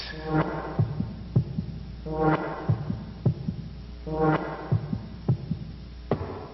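Heartbeat sound effect from a dark Nickelodeon bumper: deep, booming paired thumps repeating slowly over a low droning hum, loud and close, with no voices.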